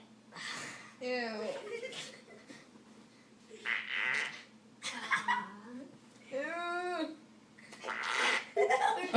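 Repeated cartoonish fart noises from a phone app, several bursts in quick succession with rising and falling tones, with children talking and giggling between them.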